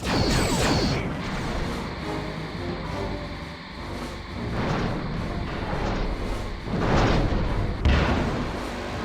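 Starship weapons fire in the Star Trek Bridge Commander space combat game, a series of swelling whooshing blasts and rumbling impacts repeating every couple of seconds over a continuous, loud engine-like drone.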